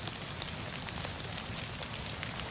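Steady rain falls across open terrain in the survival game DayZ, a dense continuous hiss with scattered droplet ticks, fairly loud and even throughout with no voices.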